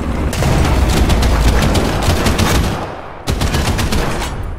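Sustained, loud tank machine-gun fire in War Thunder during a ground battle, a dense rapid burst running for about three seconds, briefly cutting out, then resuming just as hard, with no talking over it.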